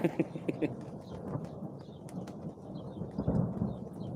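Thunder rumbles and rattles low through a live thunderstorm with rain falling, rolling in uneven swells that build again near the end, with scattered sharp crackles of rain on the recording gear.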